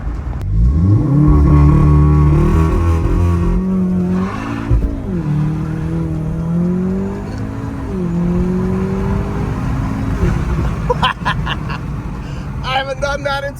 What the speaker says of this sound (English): I haven't launched this car in so long.